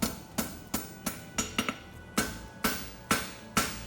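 A hammer striking a forged steel horseshoe heel on an anvil, about nine sharp ringing blows in an irregular rhythm, close and moderately loud, no speech.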